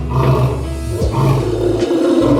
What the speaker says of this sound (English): It's a lion roaring, king of the jungle indeed.